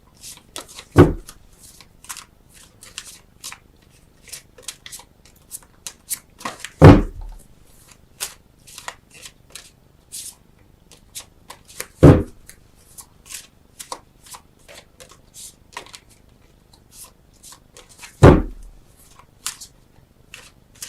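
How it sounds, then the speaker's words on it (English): Tarot cards are shuffled and drawn during a love reading, four distinct crisp riffling bursts spaced several seconds apart, with faint soft handling and card taps in between in a quiet room. "Let's get 3 cards clarifying exactly what that's about."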